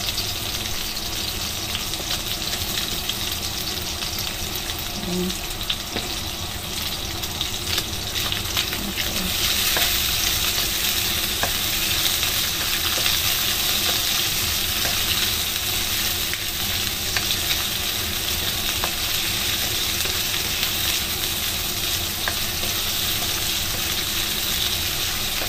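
Onion and garlic sizzle steadily in a hot pan, a dense crackling hiss that runs on without pause, with occasional stirring clicks and no voices.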